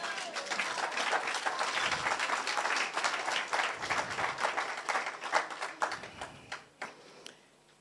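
A church congregation breaks into sustained applause at a worship gathering, dense rapid clapping from many hands that holds steady and then thins into scattered claps as it fades, with faint crowd murmur beneath.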